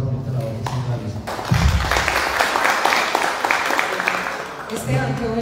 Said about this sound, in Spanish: un aplauso para ustedes por esa bonita labor que están realizando